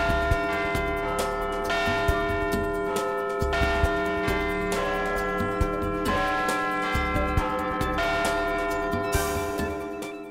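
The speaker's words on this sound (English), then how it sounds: "room has a total of 5 bells, 4 quarter bells plus the hour bell, Big Ben." The bells of the Big Ben clock tower at the Palace of Westminster in London ring out in a rich, sustained peal of layered strikes that blend into a continuous resonant hum.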